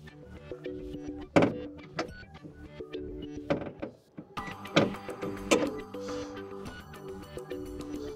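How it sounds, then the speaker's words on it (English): A few sharp metallic clunks and thuds ring out as the hood of a Mercedes-Benz A-Class is released and lifted open, set over a steady tonal background. "In order to check it, let's lift up the hood."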